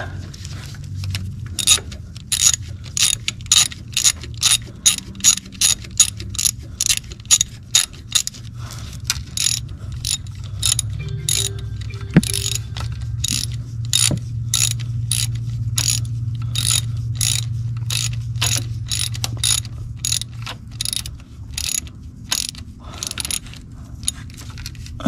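A ratchet wrench tightening a fastener on a 2014 GMC Terrain engine, rapid repeated clicking strokes in bursts over about twenty-five seconds, close and clear over a low background hum.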